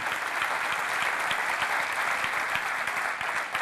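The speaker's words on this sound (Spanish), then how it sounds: "Dale un aplauso al Señor." A church congregation gives sustained, steady applause, many hands clapping together in a dense, even roar that holds at a constant level throughout.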